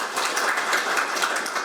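Steady applause fills a room as an audience at a veterans' policy seminar on delayed post-war PTSD welcomes a National Assembly member, a dense, even clapping wash with no voices over it.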